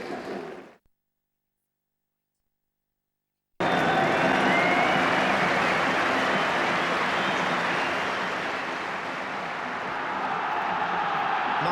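A football crowd applauds Liverpool off the field at half-time, two goals up against Nottingham Forest, a broad steady wash of clapping and crowd noise that starts abruptly after a short silence and holds loud throughout.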